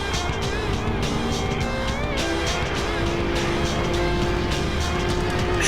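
Ford GT40 race car roaring along a straightaway, its engine a steady loud drone with shifting pitch throughout, other race cars blending into the continuous noise.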